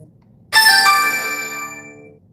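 A phone ringtone chimes once, loud and close, with a bright, bell-like tone that rings out and slowly fades over about two seconds, with no talk.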